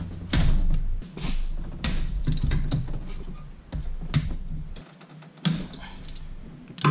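A ratchet wrench loosens bolts on the AC compressor of a 1990 Mazda Miata with a 1.6L engine, giving rapid clicking and ratcheting bursts close up, with metallic clanks between strokes and no talk.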